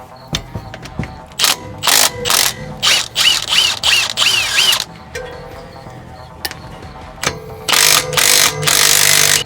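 Ratchet loosening 14 mm brake caliper bolts on a 2017 Honda Odyssey during a pad and rotor job, with loud close bursts of rapid clicking separated by short pauses.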